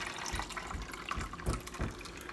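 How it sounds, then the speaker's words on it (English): Water pours from a tap into a container for growing plants, a steady splashing gush at moderate volume with a few louder spurts and no voices. "I'm just going to fill this up with water."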